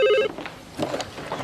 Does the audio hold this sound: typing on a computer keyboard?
no